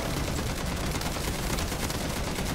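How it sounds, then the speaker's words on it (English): Automated turrets in MW3 Zombies fire nonstop, a dense, loud, unbroken stream of rapid gunshots that never lets up. "But the turrets are shooting at his base."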